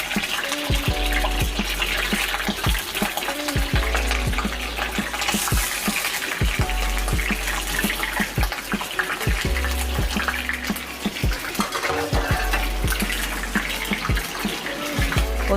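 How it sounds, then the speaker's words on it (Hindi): Liver (kaleji) cooking in oil in a pan over a lit flame, giving a steady, loud watery hiss and sizzle with frequent clinks and knocks throughout, no voices. "अब फ्लेम ऑन कर देंगे और इसमें ऑयल डाल दूंगी मैं और कलेजी भी साथ डाल दूंगी मैं।"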